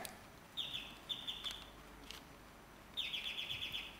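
A bird-chirp sound effect used as a contestant buzzer during a rapid-fire game show round, with bright repeated electronic tweets in two separate bursts over a quiet background.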